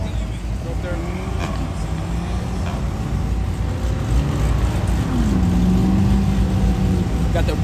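A Dodge Demon at a car meetup, its engine droning loudly and then revving with a rising, wavering tone, while people talk nearby throughout.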